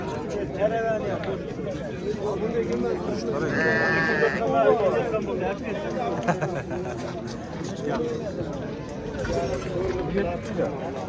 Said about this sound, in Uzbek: Mana qo'ylar.